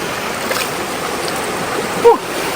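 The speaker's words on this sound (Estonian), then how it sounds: "Mina pesen nüüd nägu Ameerika veega" Cold mountain stream water rushes steadily nearby while someone washes their face in it, with one brief, close splash near the end over the constant flow.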